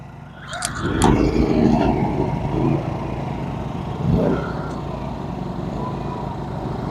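Small Genmax inverter generator is pulled to start, catches and settles into a steady running hum alongside other portable generators already running nearby.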